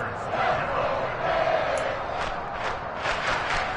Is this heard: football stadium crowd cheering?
yes